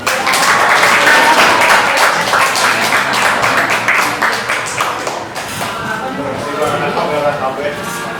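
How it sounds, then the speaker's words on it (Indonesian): Audience applause at an inauguration ceremony for an organization chairman, a sustained wash of many hands clapping that fades slightly toward the end, with voices mixed in. "Tepuk tangan dong."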